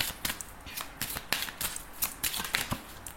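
Tarot cards being shuffled by hand, a quick series of soft riffling snaps and flutters close by, irregular in rhythm and fairly quiet, with no speech.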